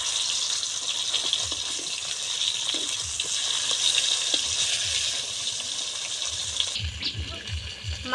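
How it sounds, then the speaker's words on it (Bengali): Koi fish (climbing perch) frying in hot oil in a home kitchen, a steady, close, dense sizzle that continues without a break and turns slightly rougher near the end. "তেল গরম হয়ে গেছে, মাছগুলো দিয়ে দেবো।"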